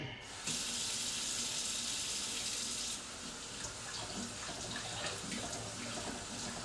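Tap water runs hard into a strainer of rice in a kitchen sink, a loud steady hiss that starts abruptly, then drops to a softer pattering flow with small clinks as the rice is rinsed.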